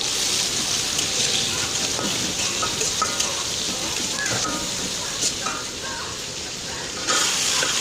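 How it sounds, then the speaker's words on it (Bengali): Fish and onions fry in oil in a pan, giving a steady, dense sizzle that runs throughout at moderate loudness, with occasional small pops and stirring scrapes. "ওদিকে পেঁয়াজগুলো ভাজা ভাজা হচ্ছে, এদিকে মাছগুলো আমি ভেজে নিচ্ছি।"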